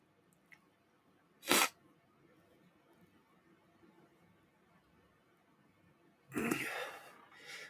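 A sneeze bursts out close and sharp in a quiet room, followed a few seconds later by a second, longer and noisier burst of breath.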